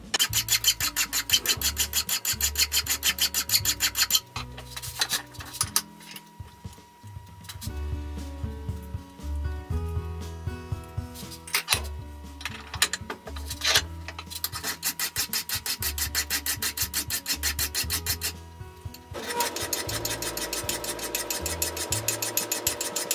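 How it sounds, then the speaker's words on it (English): A hand file rasps back and forth across a small metal T-nut held for shaping, steady rhythmic strokes in bursts with brief pauses, close and loud with no talking. "There's an awful lot that you can do with just a file, but it is tiring."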